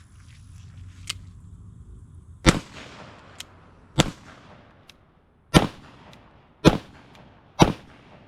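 An 1851 Navy conversion revolver firing black powder .38 Special rounds outdoors: five loud, sharp, well-spaced shots, each with a short booming decay, with quiet pauses between them and no speech.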